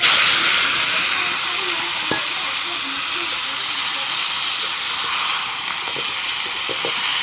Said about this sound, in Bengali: তেল গরম হয়েছে, এখন দিয়ে দিই মাংসটা।